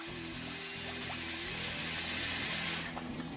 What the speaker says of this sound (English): I'll get some water up on it and let it just soak for about half an hour or so.